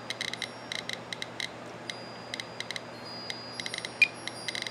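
A kit-built radiation counter sitting on a hot sample chirps in quick irregular bursts of sharp clicks and beeps, some clustered, some isolated, over a steady low hum.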